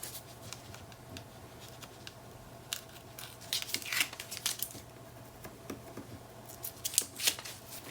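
Inked craft paper is glued and pressed into a Graphic 45 Fairie Wings cover: soft crinkles, rustles and light taps of handled paper, close and quiet, in scattered bursts with no talking.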